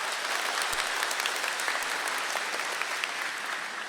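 Audience applause answering a call to clap about a corruption case, dense steady clapping from a crowd that fills the whole stretch at even loudness, with no talk over it.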